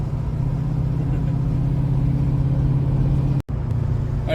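Oldsmobile Cutlass with HEI ignition, misfire problem being solved, cruising with a steady low engine hum and road rumble from inside the car, one brief dropout near the end, no talking.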